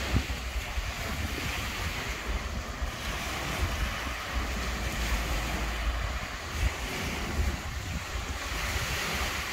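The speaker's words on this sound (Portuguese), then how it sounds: "Olha o tipo da onda, ela vem de lado, ó." Ocean waves breaking at Praia do Tomé beach in Palhoça, Santa Catarina, as a steady, loud roar of surf with wind buffeting the microphone, continuous for the whole stretch and with no talking.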